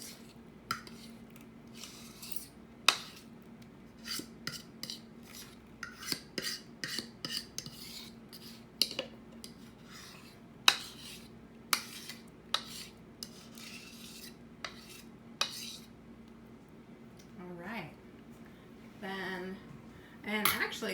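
Banana bread batter is scraped from a bowl into a greased pan, with soft rubbing scrapes and a string of sharp utensil taps and clinks on the bowl and pan, fairly quiet against a low background hum.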